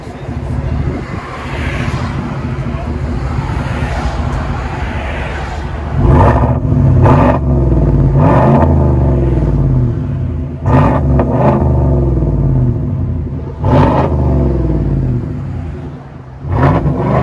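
A deep, throaty GMC Sierra 5.3L V8 with straight-pipe exhaust rumbles steadily, then revs up in several loud bursts that rise and fall, close by with no talking.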